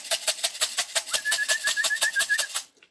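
A pigeon coos near a home loft as racing birds return from a 245 km race from Dizy-le-Gros, France, with a rapid series of soft pulses and a thin whistle-like tone over the second half before stopping.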